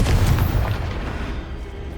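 Confringo fire spell explosions in the video game Hogwarts Legacy, heard as a loud booming blast at the start that rolls off into a fading rumble.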